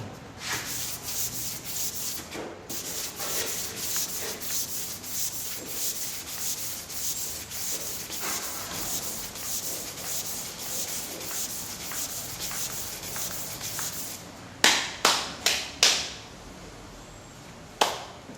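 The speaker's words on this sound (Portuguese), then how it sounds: "Então aqui precisa ser lixado ainda mais." Primer on a Saveiro car hood being sanded by hand: steady, continuous rasping strokes for most of the stretch, then a few sharp taps and a pause near the end, with no talk.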